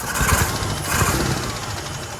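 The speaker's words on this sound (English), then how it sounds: "I tried to rev it pretty aggressively" A straight-six engine with a sticking valve revs hard in short bursts, loud and close, with a rough mechanical edge over a steady running drone and no talking.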